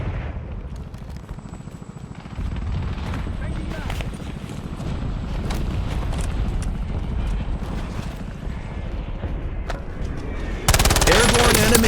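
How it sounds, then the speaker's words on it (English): In a Warzone match, sustained rapid automatic gunfire rattles on without pause, loud and dense, with a steady mechanical drone and game effects beneath it and a sharper burst near the end. "The pink recoil researcher opens fire with 50 rounds."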